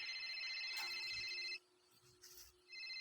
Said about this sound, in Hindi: उसी समय समीर का फोन बज पड़ा।